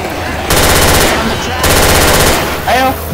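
Rapid automatic gunfire from the video game Left 4 Dead 2, loud and dense, firing in sustained bursts with brief pauses between them, while a voice speaks faintly over the shooting near the end.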